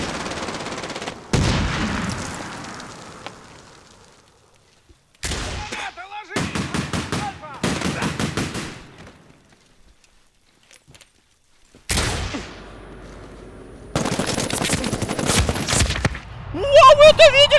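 Bursts of automatic gunfire from Medal of Honor: Warfighter multiplayer, several loud rapid volleys separated by quiet gaps, with single shots and a player's voice in between.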